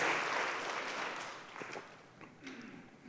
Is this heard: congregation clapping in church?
yes